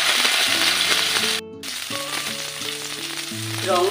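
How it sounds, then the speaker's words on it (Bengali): Pieces of rui fish fry in hot oil in a home kitchen, making a loud, continuous sizzle that briefly cuts out, then resumes with background music playing throughout. "এবার মাছগুলো ছেড়ে দিই, দিয়ে একটু হালকা করে ভাজি।"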